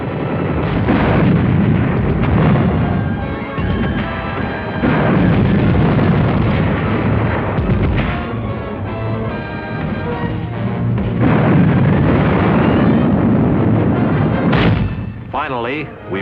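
Artillery and mortar fire from the 1945 Battle of Manila, a dense, continuous roar of booms and blasts, loud and muffled on old film audio, with a narrator's voice running over it.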